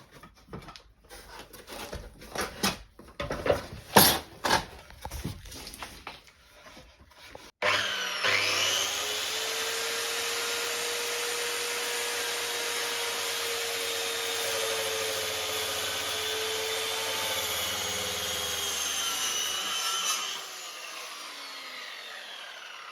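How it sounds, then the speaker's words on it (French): A steady, continuous power saw cutting through a wooden beam for about twelve seconds, preceded by scattered knocks and handling noises; no talking. "Coup de scie."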